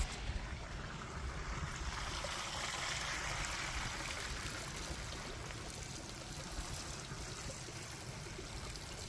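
Water pours steadily onto the soil around a newly planted Celeste fig tree, a soft, even trickling and splashing that stays faint and unbroken throughout.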